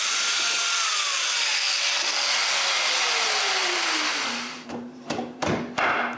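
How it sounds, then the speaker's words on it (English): A power drill bores mortises into the end of a wooden post, a loud steady whine that slowly drops in pitch under load, then stops, followed by a few sharp knocks and clunks. "Then I drill 4 mortises at the end of a post."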